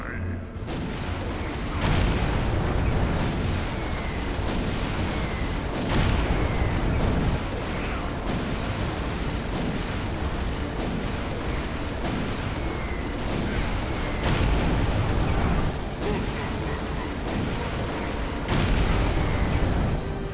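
Bombs explode repeatedly in Warhammer 40,000: Kill Team, heavy booms and crackling bursts rolling through a dense, loud battle din, with voices talking over the chaos.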